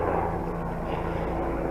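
A fixed-wing airplane passes overhead as a steady, broad engine roar that holds at a fairly loud level for the whole moment, with no talking.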